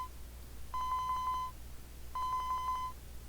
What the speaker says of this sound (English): Osawa's phone rang and Minodekawa's phone number popped up on the LCD's display.